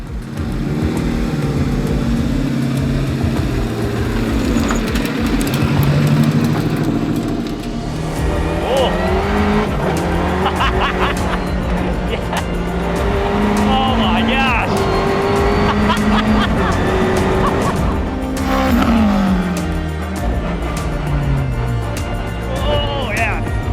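A Renault Clio is driven hard on a ride-along, its engine roaring loud and close as it climbs and drops through the revs, with occasional tire squeal and passengers talking over the noise.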